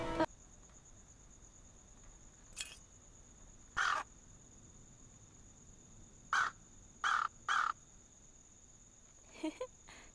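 Crow-like caws from a bird perched on a house roof in the Anna's Quest adventure game, several short separate calls spaced out over a quiet ambient background with faint chirping.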